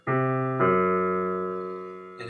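Pipe organ pedal notes sounding tritones, two low sustained tones entering one after another and holding steadily before a third sounds at the end, with no talking.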